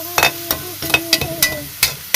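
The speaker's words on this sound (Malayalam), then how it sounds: "അപ്പോൾ സവോള ഇളക്കി ഒന്ന് സെറ്റായി ഒന്ന് അടച്ചു വെക്കണം" Sliced onions stirred and frying in a pan at night while making kuthu parotta, with a run of sharp scraping spatula strokes over a steady sizzle, close and fairly loud, no talking.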